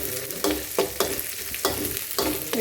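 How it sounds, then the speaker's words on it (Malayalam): Dried red chillies, curry leaves and small shallots fry for a country chicken curry. A close, steady sizzle is cut by sharp scraping stirs at a regular pace, with no talk. "അതുപോലെ ഒന്ന് മൂപ്പിച്ചെടുക്കുക വറ്റൽ മുളക് കറിവേപ്പില ചെറിയ ഉള്ളി"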